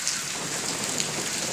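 Rain falls steadily on a mango tree in the evening, a dense close patter of drops with no talking.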